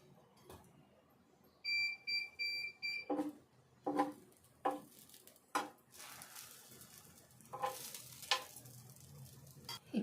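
An egg dosa made with wheat flour sizzles in oil on a pan. A soft, steady fry hiss sits under a series of sharp scraping and clattering bursts from a spatula, and a brief high electronic beeping is heard early on.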